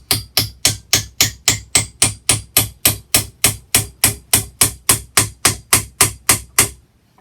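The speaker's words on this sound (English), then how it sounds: "sometimes when you hit the nail and you miss, it flies right out" A nail is hammered into wood while building a tool tray, with about twenty loud, sharp strikes falling in an even, quick rhythm, each ringing briefly before the next, then stopping.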